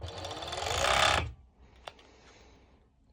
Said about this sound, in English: I'm going to stitch this little piece as well